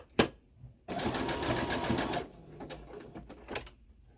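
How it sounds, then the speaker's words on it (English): A sewing machine runs a zigzag stitch around the edge of a patchwork pillow, one steady close whirring burst of about a second and a half between quieter clicks and handling noises. "just going to start going all the way around again with the same zigzag stitch"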